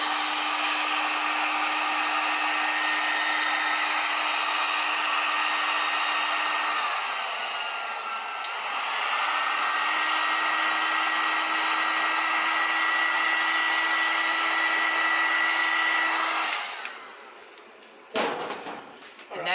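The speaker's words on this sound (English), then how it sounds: "We're just going to use a heat gun for today" A heat gun blows steadily on a print transfer, a loud continuous whooshing roar with a steady tone that dips briefly midway, then cuts off near the end, followed by a couple of sharp knocks.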